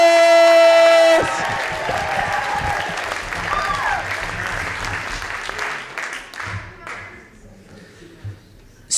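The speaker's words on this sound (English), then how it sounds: "Keep your applause going for our next poet coming to the stage" At a teen poetry slam in a library, an audience claps and cheers for the next poet. A loud sustained whoop comes first, then a busy wash of clapping fades gradually over several seconds to near quiet.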